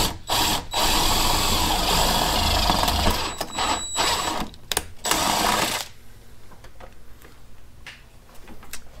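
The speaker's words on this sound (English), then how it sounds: "for the hole for the wiring, I'm gonna use a stepper bit, just like that one" Step drill bit boring a hole through a car hood for LED underhood light wiring, a loud close whirring grind for several seconds with brief stops and restarts, then it ends and only faint handling noise remains.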